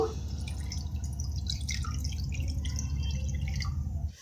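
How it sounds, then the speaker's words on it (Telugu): A cup of water is poured into a non-stick pan in one steady, continuous stream lasting about four seconds, with bright splashing and trickling up close that stops abruptly at the end. "ఇప్పుడు ఈ 1 కప్పు వాటర్ని అయితే ఈ బాండీలో పోసేసుకుందాము"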